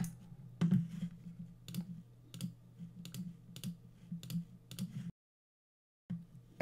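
Light clicks of a computer keyboard being typed on, quiet and close, coming in short irregular bursts of keystrokes with a brief silent gap near the end.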